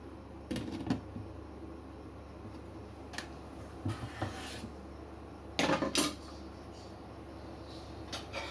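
A metal lid is set onto a pot of noodle soup with meatballs in a home kitchen: sharp clanks and a short rattling cluster of metal knocks over a low steady background hum.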